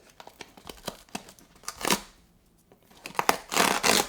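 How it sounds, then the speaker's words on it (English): Scissors snip and tear through tape covering the perforated seam of a cardboard box for a Boox Go Color 7 e-reader, a run of sharp close cuts followed by two longer ripping bursts. "I gotta make my own perforation with the scissors because they got tape over it"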